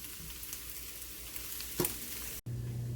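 Onions and green beans fry in a pan on turned-down heat, a soft, steady sizzle running throughout with one brief louder clatter partway through and a short break in sound near the end.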